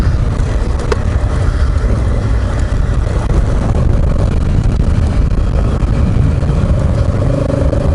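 A Honda Africa Twin with a DCT gearbox, traction control off and in sport mode, pulls hard in second gear on a dirt trail, its engine a loud, steady, close roar with rough rumble and wind throughout.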